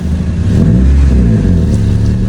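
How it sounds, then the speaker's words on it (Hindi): A Honda Civic engine revs steadily with a leaking exhaust pipe, giving a continuous loud low rumble close by; the faint bubbling from the leak is hard to pick out beneath the engine note. "देख रहे हो ना हल्की सी बबल की आवाज़ आती है। स्पेशली रेस दूंगा ना तब तो बहुत ज़्यादा आएगी,"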